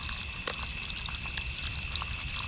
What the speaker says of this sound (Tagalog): Lagyan natin tubig.